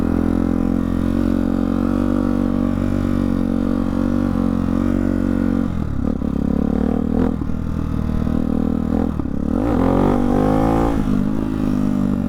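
A Hyper 698 motorcycle fitted with an aftermarket exhaust roars up close, holding a loud steady drone before several sharp throttle blips swing the pitch up and down near the end.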